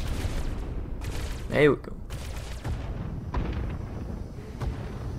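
Blaster fire in Star Wars: The Old Republic crackles steadily as a mid-level volley throughout, with one sharper zapping shot standing out early, while a voice speaks briefly over the shooting.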